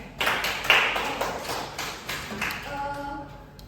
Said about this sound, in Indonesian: tepuk tangan dulu untuk dia